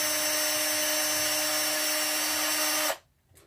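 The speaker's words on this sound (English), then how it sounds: "I'm taking the pole screws out so that I can put them back in once it's done lacquer potting." A power drill whirs steadily as it backs the pole screws out of a guitar pickup before lacquer potting, a loud sustained motor whine that cuts off abruptly near the end, no voices.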